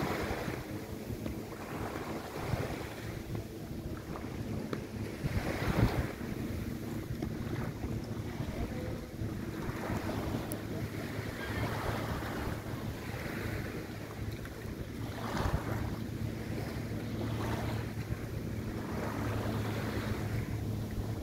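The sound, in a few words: traditional Thai long-tail boat with waves at Phi Phi Island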